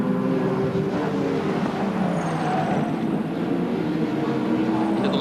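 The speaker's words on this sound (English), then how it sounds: "Left-hander, Tony Longhurst, the Benson and Hedges BMW M3 carrying our Castrol race cam" A BMW M3 touring car racing at Eastern Creek, heard as a steady, loud engine roar that holds for several seconds without a break.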